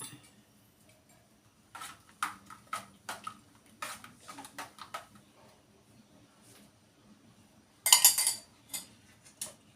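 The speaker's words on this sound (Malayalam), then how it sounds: "ഒന്ന് ഇളക്കി കൊടുക്കാം നല്ലോണം." A spoon stirs milk in a bowl while Bombay toast is being made, giving quiet, irregular clinks and scrapes against the dish, with a louder burst of rapid clinking near the end.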